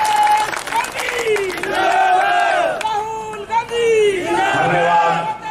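Crowd cheering, shouting and clapping at a Congress political rally during the Parivartan Yatra, loud and continuous with raised voices throughout.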